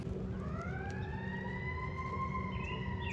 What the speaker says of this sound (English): Oh, that siren's close.